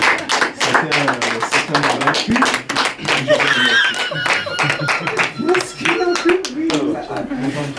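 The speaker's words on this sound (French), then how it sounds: "j'aimerais qu'on l'applaudisse tous" An audience at an after-work gathering in Belgium claps steadily in a dense wash of hand claps, with people talking over the applause throughout.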